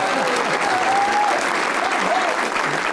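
A TV studio audience applauds steadily and loudly throughout, a dense continuous clatter of clapping.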